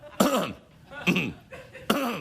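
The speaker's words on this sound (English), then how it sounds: "I've got a bit of a cough as well." Three harsh coughs spaced evenly about a second apart, close and fairly loud, with no talking.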